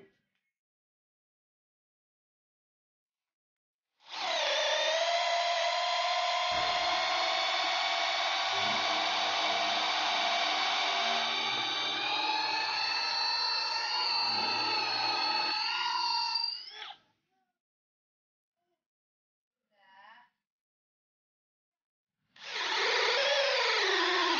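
A Stanley Fatmax SBD715D2K impact drill in drilling mode at speed setting 2 bores a 10 mm hole in mahogany, a loud steady motor whine that starts abruptly and bogs lower under load, then stops, followed by a brief blip and a restart.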